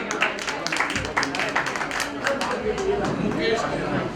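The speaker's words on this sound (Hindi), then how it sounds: "एक बार प्रिया जी के लिए जोरदार तालियां" An audience claps in sustained applause for singer Priya at a cultural society tribute event for artists, steady and fairly close, with voices mixed in.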